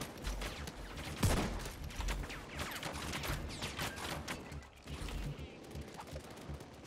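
Gunfire in the video game Payday 2 is aimed at a Bulldozer enemy: rapid, overlapping shots and bursts in a dense fusillade at moderate volume, with game sounds mixed in.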